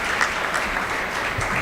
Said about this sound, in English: You can clap for me.